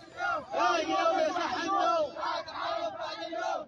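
Protesters at a street march against arrests in Ataq, Shabwa chant slogans in loud rhythmic bursts, a massed crowd of voices rising and falling together.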